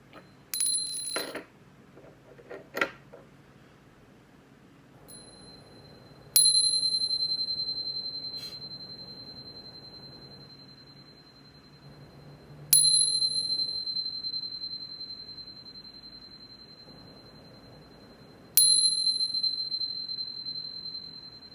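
A bright chime rings three times at slow, even intervals, each strike clear and close and fading out slowly before the next, after a few faint taps at the start.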